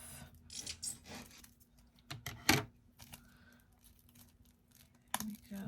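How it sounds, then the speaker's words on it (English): Scissors or a blade cutting through a plastic package in half, heard as quiet crinkly tearing and snipping bursts scattered across the clip, including one sharper rip, in a quiet room with some faint handling noise. "now we're gonna cut this in half"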